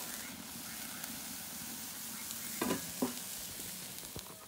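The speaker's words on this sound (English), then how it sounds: "quick little stir fry in the wok, all ready to go, all on the Wooshka" Chicken stir fry sizzles steadily in a wok over a Wooshka wok burner, a close, constant frying hiss broken by a couple of brief stirring clatters.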